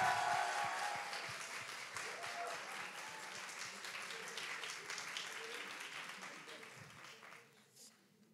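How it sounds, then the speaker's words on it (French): Warm applause from an audience greets a speech-contest candidate at an eloquence final, many hands clapping steadily, strongest at the start and gradually fading away over several seconds. "Veuillez applaudir Iman, s'il vous plaît."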